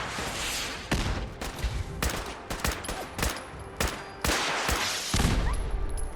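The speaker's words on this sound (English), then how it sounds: "Good shooting, Curie." Gunfire in the video game Fallout 4, a rapid string of sharp shots and bursts cracking at irregular intervals across the whole stretch, fairly loud with no talking.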